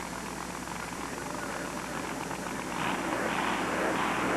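A supercharged big block Chevy-powered Jeep, the Problem Child machine, roars off the line at a 1990 USHRA drag race in Seattle, a steady distant engine roar that swells louder toward the end.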